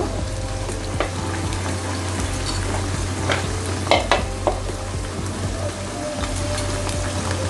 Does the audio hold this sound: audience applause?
no